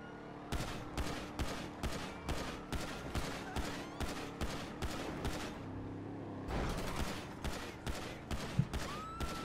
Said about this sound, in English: I just sniped that dude before we hit him.